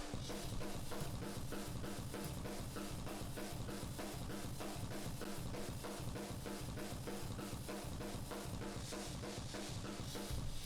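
EQed drum room mics from a metal mix, with low boom and low top trimmed, giving a dense, roaring wash of fast drumming and cymbals that stays loud and unbroken throughout.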